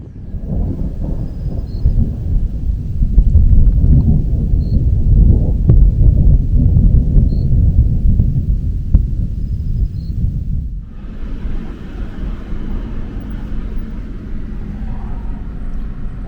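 Thunder rumbles at night over a bush campsite in Damaraland, Namibia, a loud, sustained low roll that fades into softer rain-like hiss after a few seconds.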